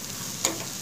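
A spoon scrapes and stirs chili powder into a potato and drumstick curry frying in a pan, a soft sizzle with a brief stir near the middle and a louder scrape at the very end, close and short.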